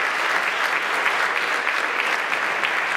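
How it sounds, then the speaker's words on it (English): An audience breaks into applause after an interview event at the Negro League Baseball Museum, a dense, sustained patter of many hands clapping at close range for a few seconds. "So again, how about a great round of applause?"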